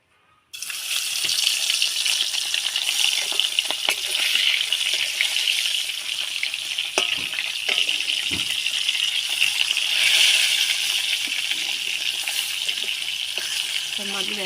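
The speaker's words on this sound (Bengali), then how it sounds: "তেলটা গরম হয়ে গেছে, তেলে দিয়ে দেবো মাছ।" Silver carp and tilapia pieces hit hot oil in a pan and start frying at once: a loud, steady sizzling hiss with scattered crackles and pops that lasts to the end.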